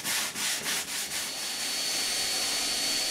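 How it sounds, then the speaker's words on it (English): Steady, close abrasive rubbing as the glossy surface of an epoxy kayak laminate is sanded down outdoors, a continuous hiss with a few brief rhythmic strokes early on and no talk. "Outside, I cut down the glossiness of the laminate."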